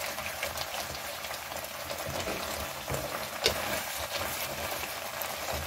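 Chicken karahi liquid bubbling steadily in a pan over a high flame, a continuous close, fairly quiet boiling sizzle with no one talking.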